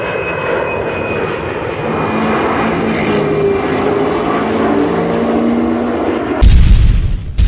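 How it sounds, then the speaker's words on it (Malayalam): A jet plane passes overhead as a loud, sustained roar that swells and shifts, ending in a sudden louder rumble. "ഒരു ജെറ്റ് വിമാനം പോകുന്നുണ്ട്."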